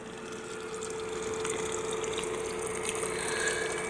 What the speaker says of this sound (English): It's just a basic filter.